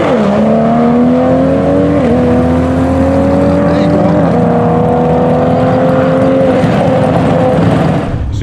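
Drag racing car making a pass on the strip, a loud sustained engine roar that climbs in pitch with several gear-shift steps before fading at the end, no voices.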